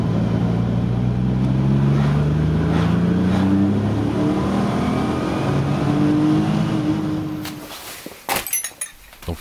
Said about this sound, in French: Le différentiel qui fait toujours le même Bruit